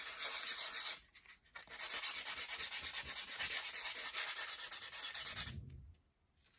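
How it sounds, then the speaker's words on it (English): Steady scratchy sanding rubs across a painted wooden heart-shaped picture frame, continuous and close with a brief pause near the start, stopping near the end. "Then I think I'm gonna sand just a little bit and just see what that looks like"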